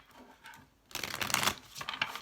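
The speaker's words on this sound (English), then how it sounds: "Last shuffle for Sagittarius." Tarot cards being shuffled during a psychic reading: a soft riffle, a short pause, then a louder burst of rapid papery flutters and slaps lasting over a second, close and alone with no talk.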